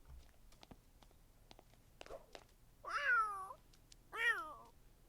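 A cat meows twice inside the video game Twitch Plays God, each call a drawn-out, wavering cry about a second apart, heard fairly clearly over faint clicks and quiet background.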